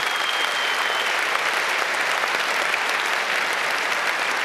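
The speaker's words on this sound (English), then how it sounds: "Applause for that." Dense, steady applause from a large audience fills a hall at the 29C3 hacker congress closing event, continuous and loud throughout with no voices on top.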